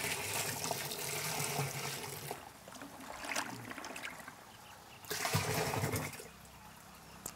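Jaggery syrup, one kilogram dissolved in three litres of water, poured and stirred into a panchagavya mixture, giving faint irregular splashing and trickling in uneven bursts, louder near the end.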